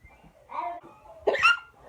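Two sharp vocal hiccups from a person, the second louder and higher, separated by a short pause and standing out against quiet background.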